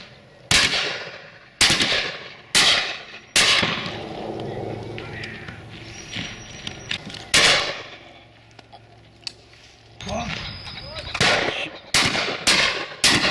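Shotgun blasts ring out at a pheasant and partridge shoot in the Dorset countryside, a string of sharp reports at varying distances, some close and loud, others fainter, with brief voices between them.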